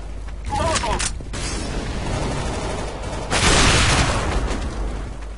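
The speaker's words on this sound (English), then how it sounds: "I'm throwing flashbang. Molotov." A flashbang and a molotov are thrown in Counter-Strike: Global Offensive on a Dust II competitive match, heard as a loud cluster of game gunfire, bangs and a rushing burst of fire.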